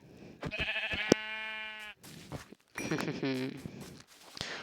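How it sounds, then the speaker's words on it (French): Sheep in Minecraft bleating in a few short wavering calls, clear and close, with light footstep-like clicks between them. "Petit mouton, donne-moi ta laine."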